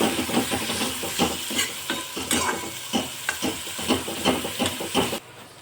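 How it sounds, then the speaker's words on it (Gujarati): Half a cup of onion and a green chili fry in hot oil, cooked toward golden brown, with a loud close sizzle and rhythmic scraping stirs that stop abruptly near the end. No talking. "હવે ડુંગળીને હું ગોલ્ડન બ્રાઉન સુધી કૂક કરી લઈશ"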